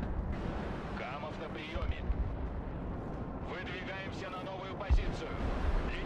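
Deep rumbling booms and crackling blasts of S-300 missile launches and explosions in the combat game Broken Arrow roll on continuously, with a sharper thump near the end, while someone talks over the battle.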